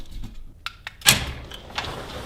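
A few light mechanical clicks followed by a sharp metallic clunk of a LiftMaster 8500W garage door opener's deadbolt releasing, then a faint motor hum, close by.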